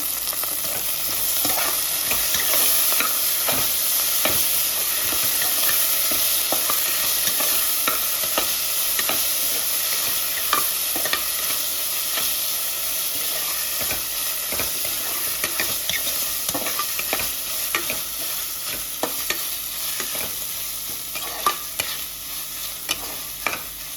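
Ginger garlic paste fries in a hot pan with a constant loud sizzle, broken by frequent scraping taps of a spoon as it is stirred, with no voices.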